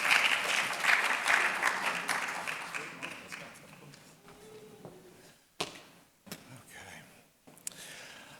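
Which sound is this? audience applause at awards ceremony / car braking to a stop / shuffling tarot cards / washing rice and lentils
audience applause at awards ceremony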